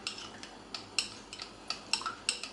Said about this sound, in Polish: Żelatynę mieszamy do całkowitego rozpuszczenia.